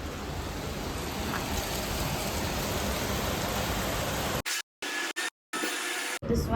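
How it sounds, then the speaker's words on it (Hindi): Steady rain falls on an outdoor surface outside an art cafe, a constant close hiss lasting several seconds before it cuts out abruptly in brief gaps. "सुबह से बारिश ही आ जा रही है।"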